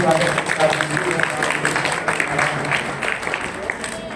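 An audience at a religious gathering honouring a swami claps loudly and steadily throughout, a dense patter of hands with a voice speaking over it.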